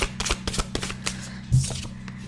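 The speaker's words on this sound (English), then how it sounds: "I'm going to shuffle a little bit, and then we're going to knock 3 times." Tarot oracle cards being shuffled by hand, a run of quick papery riffles and soft flicks with one fuller burst midway, close and fairly loud against a low steady hum.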